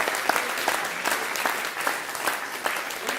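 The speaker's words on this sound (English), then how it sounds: "round of applause for amazing presentation." An indoor audience at a talk claps steadily throughout, a dense even wash of many hands with no voices over it.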